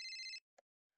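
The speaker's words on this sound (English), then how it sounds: "That's the phone! Damn phone." A single short burst of an electronic telephone ring in the Rec Room Ghostbusters game, a bright warbling trill lasting under half a second, followed by a faint click and then silence.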